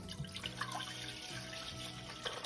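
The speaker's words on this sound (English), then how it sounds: "We need to start with two 28 ounce cool blue Gatorades. I'm pouring these into a pot." Cool blue Gatorade from two 28-ounce bottles poured into a pot, a quiet, steady trickling splash of liquid heard close up on its own.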